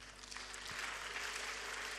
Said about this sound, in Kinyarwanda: ariko mbere na mbere tugomba kwibuka Yesu, tumuhereza icyubahiro kandi tumukomera amashyi